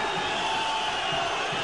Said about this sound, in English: the crowd willing on their hometown fighter